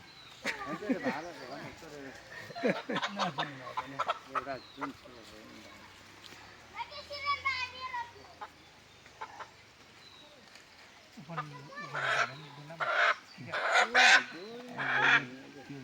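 Chickens cluck and a rooster calls in short bursts, with people talking over much of the clip.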